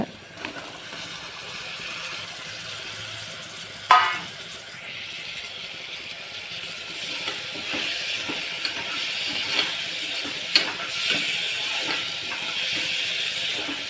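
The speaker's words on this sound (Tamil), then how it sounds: "தக்காளியை வதங்க விடுங்க" Chopped tomatoes sautéing in a pan of chilli-spiced oil for paniyaram kuzhambu, a steady soft sizzle and hiss with a few small clicks and pops scattered throughout.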